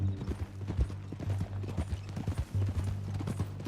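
Horse hooves clip-clop at a steady walking rhythm in the Red Dead Redemption 2 video game, close and fairly soft, with faint game sound beneath.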